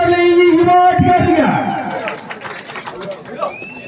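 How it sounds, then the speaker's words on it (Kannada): A loud burst of crowd clapping and cheering breaks out at a kabaddi league match as a raider takes the mat, following a commentator's voice and then filling the rest of the moment with steady, broad applause. "ಜೋರಾದಂತಹ ಒಂದು ಚಪ್ಪಾಳೆ"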